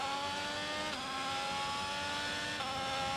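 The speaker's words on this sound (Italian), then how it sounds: "La sento molto bene la monoposto." An F1 car engine in the F1 2022 racing game holds a loud, steady high-pitched whine throughout, with slight pitch shifts at gear changes and no talk over it.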